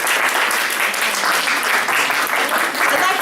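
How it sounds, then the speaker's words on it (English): Sustained applause from a workshop audience of Toastmasters members, steady dense clapping throughout, loud and close, with faint voices mixed in. "I would like to give another round of applause for all our presenters"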